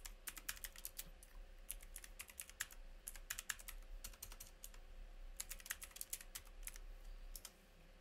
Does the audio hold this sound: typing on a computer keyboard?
yes